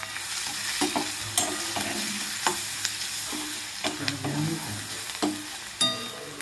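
A spoon stirs turmeric powder into fried onion in a pan while making a dry cluster bean vegetable dish. Scrapes and clinks sound against a soft, steady sizzle, with irregular sharp taps throughout.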